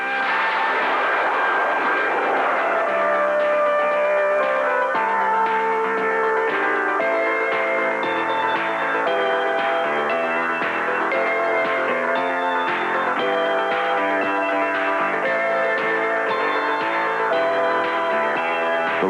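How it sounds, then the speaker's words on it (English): A small 240-pound-thrust turbojet on a reconnaissance drone spins up from start, a steady loud whine with rising harmonic tones that holds continuously for nearly twenty seconds, close and alone. "The small turbojet of 240 pounds thrust is started up and run up to speed."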